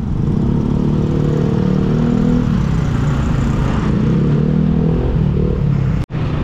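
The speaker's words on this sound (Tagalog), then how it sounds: "Grabe, oh, traffic dito yung Patagaytay." Road traffic of cars and motorcycles on a congested route into Tagaytay: a steady, close engine rumble and hum runs throughout, broken by a brief dropout near the end.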